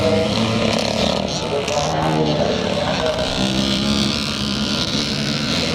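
Pre-1977 classic scramble motorcycles, including a 360 CZ, race up a hill at a charity event in Northern Ireland, engines droning and revving continuously at a distance under a commentator's voice.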